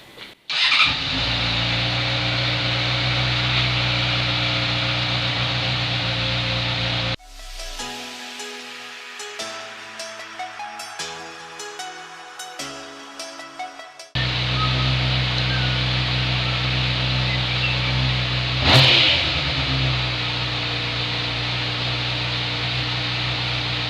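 A car engine starts right after an oil change and runs at a steady, loud idle, cuts off, then fires up and idles again with a brief sharp blip partway through.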